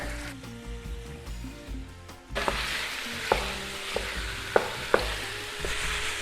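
Cherry tomatoes and sausage browning in a stew pot for lentil sausage stew: a steady soft sizzle with several sharp clinks of a utensil against the pot in the second half, close and fairly quiet.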